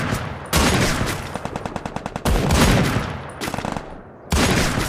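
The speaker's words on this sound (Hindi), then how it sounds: "फायरिंग चल रहा है बट बंदे दिखाई नहीं दे रहे हैं" Gunfire in a battle royale sniper squad match, loud bursts of rapid automatic fire mixed with separate single shots, coming close and dense over several seconds with short gaps between, no talk.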